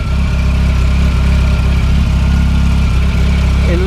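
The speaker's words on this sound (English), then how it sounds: "This is just the engine and ancillaries, nothing else switched on." A car engine idling with only its ancillaries running, a steady low rumble with a constant mechanical hum, close and unvarying.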